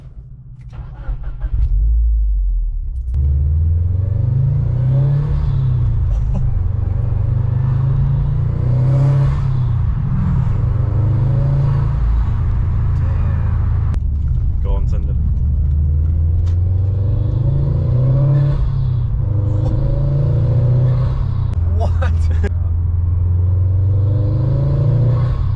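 A modified car with a Grimmspeed cold air intake, its engine loud and close, revving in repeated rising and falling surges over a rumbling idle.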